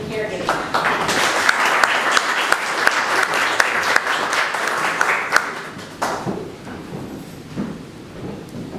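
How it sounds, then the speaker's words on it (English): An audience at a local caregiving event gives a warm round of applause, a dense burst of clapping that tapers off after about six seconds into quieter room noise. "So please give her a warm round of applause."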